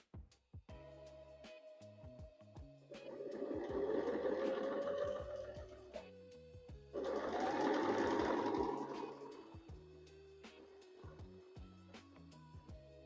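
Quilt appliqué vine and tendril stitched on a sewing machine: two steady, buzzing runs of several seconds each, close and moderately loud, separated by short pauses and quieter mechanical clicks.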